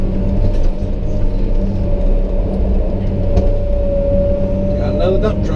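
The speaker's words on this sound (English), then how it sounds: "Got another dump truck." A dump truck arriving at a grading site for topsoil removal: a loud, steady engine rumble and drone close by, with a rising whine near the end; no talk heard.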